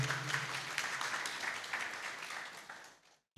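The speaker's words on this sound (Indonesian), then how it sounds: "kita berikan tepuk tangan yang paling meriah untuk beliau" Crowd applause in a hall at a civic forum honoring a guest speaker, a dense steady patter of many hands that fades and stops near the end.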